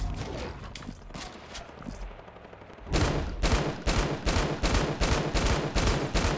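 A light machine gun in a video game fires rapid, sustained bursts, building from scattered shots into a loud, dense stream of gunfire close by.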